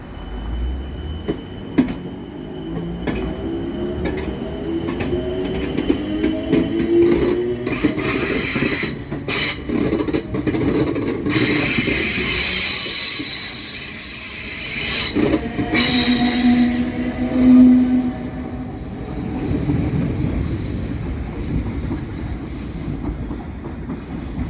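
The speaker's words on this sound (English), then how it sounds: "The train now approaching platform 6 doesn't stop here." A non-stopping train rumbles loudly through a station platform at speed, wheels clattering and squealing on the rails, the roar swelling and fading without slowing down.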